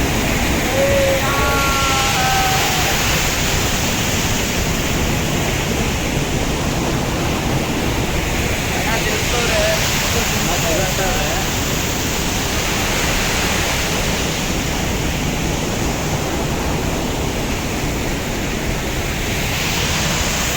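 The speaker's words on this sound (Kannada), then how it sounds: "ನಮ್ಮ ಹತ್ರ ನೀರು ಬೀಳ್ತದೆ" Steady, dense roar of rushing water at Hogenakkal Falls, loud and continuous like a waterfall pouring down nearby, with a few faint bird chirps.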